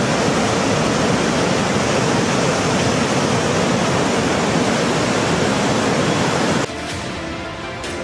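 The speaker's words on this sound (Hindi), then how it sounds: "सुसवा नदी का रौद्र रूप" The swollen Suswa river rushes after monsoon rain, a loud, dense, unbroken roar of churning water that drops abruptly to a quieter level near the end.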